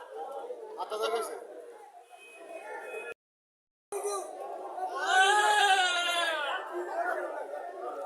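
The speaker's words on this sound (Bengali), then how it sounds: "প্রচুর আজকে ছাগল উঠছে।" Goats bleat in loud wavering cries at a busy village livestock market, under steady chatter and bargaining voices, with a short gap of silence midway.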